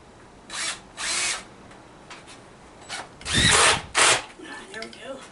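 A power drill drives short roofing screws to hold metal in place on a grape arbor repair, heard as several brief whirring bursts with pauses between them, the last two louder and longer, close by in a quiet outdoor setting.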